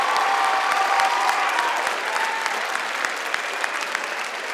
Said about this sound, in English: I would give everybody a round of applause for all the work they've done today